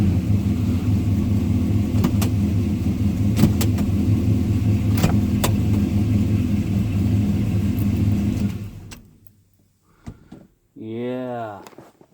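A car engine held at high revs during a torque converter stall test, a loud steady drone with a few clunks that drops off sharply near the end, leaving quiet followed by someone speaking briefly.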